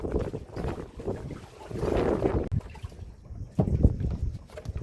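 Strong, gusty wind over a river in the Sundarbans, heard from a boat, roaring in broad surges of rushing noise with buffeting against the microphone and a couple of sharp thumps, loud and continuous.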